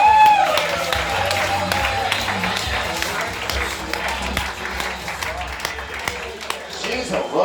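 An audience at a comedy roast battle applauds roaster Lachlan Patterson, with scattered clapping and crowd noise beneath music and an announcer's voice.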